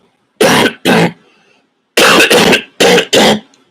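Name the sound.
cough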